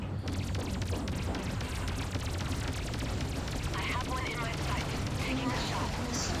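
Battle sounds from the space combat game Freelancer during an incoming missile attack: dense continuous gunfire, blasts and rumbling explosions with someone talking over the din.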